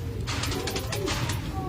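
Domestic pigeon of a prized fancy breed cooing softly in repeated low murmurs, with faint chirps layered over steady background noise.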